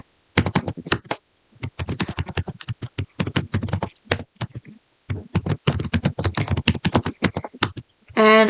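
Rapid, close clicking of computer keyboard keys comes in steady typing bursts with short pauses between them.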